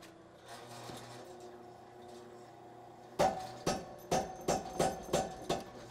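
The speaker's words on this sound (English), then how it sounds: "I'm gonna go under the power hammer just to draw that out quick." Heavy metallic blows from a power hammer forging steel for a Bowie knife strike in a quick, regular rhythm over a low mechanical hum, each hit ringing briefly.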